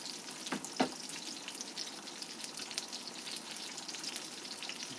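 Sardines fry in oil with a steady close sizzle and crackle, a couple of sharper pops near the start, no voices.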